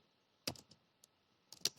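Keys on a computer keyboard are pressed in two short clusters of close, crisp clicks separated by a quiet gap.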